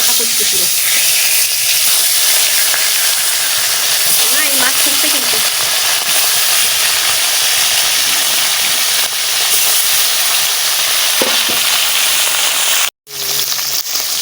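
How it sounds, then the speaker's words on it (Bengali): Fish frying in a large pan of very hot oil, with an even, loud hiss and sizzle running steadily almost the whole time and a brief break near the end. "অনেক তেল গরম হয়ে গেছে"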